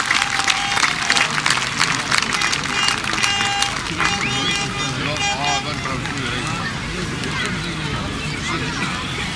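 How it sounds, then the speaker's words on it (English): A crowd at a 2001 grasstrack racing meeting applauds the top three finishers, broad sustained clapping mixed with chatter and outdoor background noise, tapering off as talk continues. "Let's have one big round of applause then for our top 3 this afternoon."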